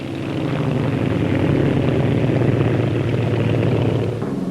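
The 173 rotor aircraft with small stub wings flies at Farnborough, its steady, droning engine and rotor hum swelling slightly and holding loud and continuous before easing off near the end.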